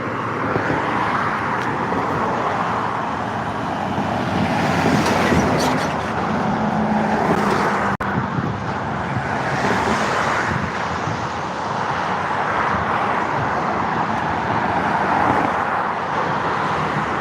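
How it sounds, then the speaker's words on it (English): A big truck approaching along a road, its broad rumbling roar swelling and fading in waves over continuous outdoor traffic noise, fairly loud throughout. "we got a big truck coming"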